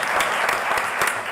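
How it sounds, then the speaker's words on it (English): An audience claps at a city council meeting, with steady, fairly loud applause that fills the whole moment without pause. "We can clap."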